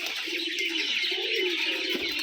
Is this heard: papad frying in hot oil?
no